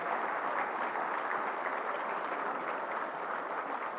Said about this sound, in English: Give another round of applause to Ms. Lillia here